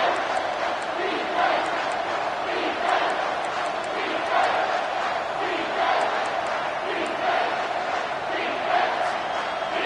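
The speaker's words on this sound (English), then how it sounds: "with this place rocking, the crowd forces a false start" A college football stadium crowd roars loudly and steadily during a play on third down, a dense wall of cheering and yelling with surges, with a commentator's voice over it.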